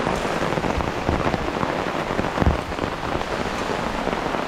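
Heavy rain pours onto a tarp shelter at a campsite during a thunderstorm, a dense, steady, close drumming with no letup and scattered louder drops.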